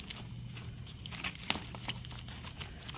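Tape crinkles and crumples as it is pressed onto a homemade spooky tree diorama: soft, close rustling and crackling with a few sharper snaps, fairly quiet throughout.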